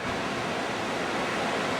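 A waterfall seen from a platform on a Seattle-area trip gives off a steady, full, even roar of rushing water with no pauses or voices.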